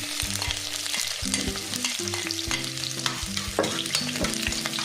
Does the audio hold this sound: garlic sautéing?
yes